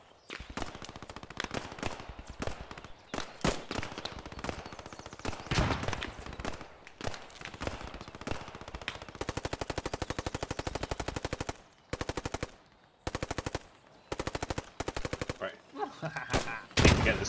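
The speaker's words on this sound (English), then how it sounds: "Get this fucking machine gun firing again." Sustained bursts of machine-gun fire in a World War I-era AEF multiplayer shooter game, rapid rattling volleys with brief pauses between bursts, loud and close, with faint voices under the gunfire.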